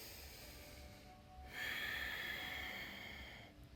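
Slow deep breathing during a stretching practice: a soft inhale, then a longer, louder exhale that swells and fades, close to the microphone and without speech.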